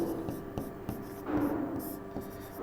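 Writing on a board during a basic maths lesson: rhythmic, scratchy pen or chalk strokes at close range, partly under a teacher's ongoing talk.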